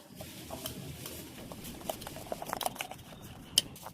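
Red chilli powder, sugar, turmeric and spice-bowl rinse water being mixed in a bowl for steamed eggs. The mixing gives a faint, continuous soft scraping and patter, with no talk over it.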